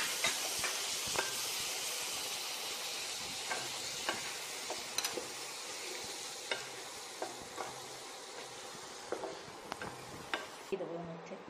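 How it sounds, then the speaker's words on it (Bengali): Spices with salt and sour yogurt are stir-fried in a pan for coriander chicken. A soft, steady sizzle is broken by regular sharp clicks of a spoon against the pan. "এবার এই মশলাগুলোকে ভালো করে কষে নিতে হবে।"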